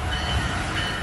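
A Brightline train rushes past on the tracks in Hollywood, South Florida, a loud, close, continuous roar of rolling wheels and rail noise.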